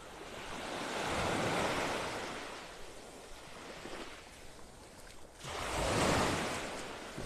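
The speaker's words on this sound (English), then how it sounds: "The tide is coming in." Ocean waves wash onto a beach at Vanderbilt Beach in North Naples, Florida, as the tide comes in: broad rushing surf swelling and fading in two surges, with wind buffeting the microphone and no speech.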